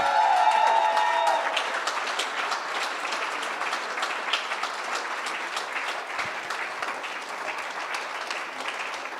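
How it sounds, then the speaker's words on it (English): A darts crowd at the WDF World Open 2024 applauds finalist Lex Paaschaus: a sustained, full round of clapping from a large audience that stays steady and even for about nine seconds. A brief tone sounds at the start. "A massive round of applause for Lex"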